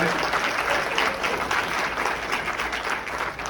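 A conference audience at a Honolulu welcome gathering applauds a Hawaiian hula and music cultural presentation, with sustained, dense clapping filling the room and a voice briefly audible beneath it.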